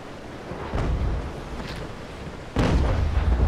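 Heavy naval cannons fire in the sailing-ship combat game Naval Action, two deep booming shots a couple of seconds apart over a steady rumble of wind and sea, loud and fairly close.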